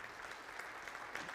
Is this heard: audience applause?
yes